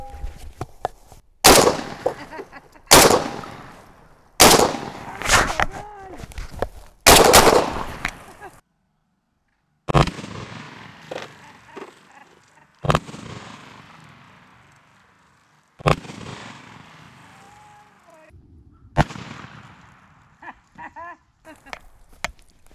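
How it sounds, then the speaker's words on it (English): Shotgun blasting buckshot at 2-liter bottles outdoors: a string of loud, sharp reports, several in quick succession and then more spaced out, with short pauses between shots and faint handling noise. "here we go with a little bit more buckshot. I've got some 2-liter bottles down here. We're just gonna blast at those real quick."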